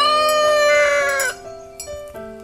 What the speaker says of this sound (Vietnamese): hồi sinh giống gà nhiều ngón, một giống gà đặc sản của vùng đất Tân Sơn của tỉnh Phú Thọ